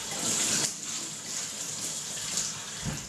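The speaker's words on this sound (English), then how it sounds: "rinse it thoroughly," Steady running water rinses a camera rangefinder unit from a Retina IIC, a continuous close splashing hiss with slight surges and no talking.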